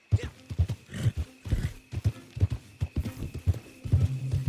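Hoofbeats from a horse in the Red Dead Redemption 2 game sound in a quick, repeated clip-clop rhythm up close, with a brief neigh mixed in among the steps.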